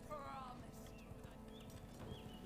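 Rapid hoofbeats of a fast horse galloping in the video game V Rising, boosted by an Umbral Potion, a steady clip-clop running under continuous game sounds and someone talking over it.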